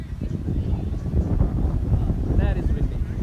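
Steady low wind rumble buffeting the microphone outdoors at a T20 cricket match, with a voice speaking faintly underneath.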